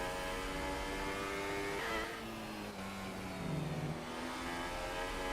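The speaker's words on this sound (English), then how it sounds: "he is risking his gearbox because he's downshifting far too harshly" A race car in a sim racing game revs hard and then downshifts harshly under braking, engine pitch stepping down through gears in a loud, steady drone.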